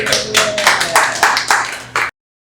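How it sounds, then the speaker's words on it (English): Hands clap in a quick burst of about seven sharp, close claps in an uneven rhythm, ending abruptly into silence. "Clap it up, clap it up."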